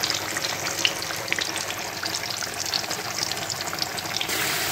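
Yam slices fry on a stovetop with a steady, close crackling sizzle that runs unbroken throughout, with no voices.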